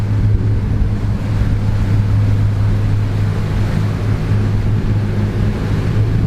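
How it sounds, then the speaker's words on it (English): Continuous rushing water and wind noise buffet a Trader 535 Sunliner motor yacht as waves and salt spray come over the bow, a loud, steady wash with no distinct pauses. "There's an incredible amount of salt spray and water coming over the bow of the boat at the moment"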